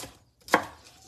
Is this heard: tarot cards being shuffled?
no